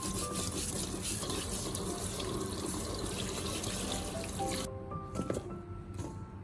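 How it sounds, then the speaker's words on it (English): Celery stalks scrubbed with a soft brush under running water in a sink, a steady tap stream with splashing and brush rubbing, close and moderately loud, ending in quieter drips and handling sounds. "So I use a soft brush to gently scrub and clean it thoroughly."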